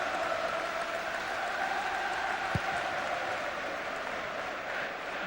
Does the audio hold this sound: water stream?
no